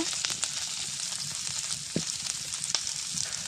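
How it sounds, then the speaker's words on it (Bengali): Onion and garlic sizzle steadily in hot oil in a pan where fish was just fried, a dense continuous crackle with a few sharper pops and no voices. "পেঁয়াজ রসুনটাও বেজে নেব"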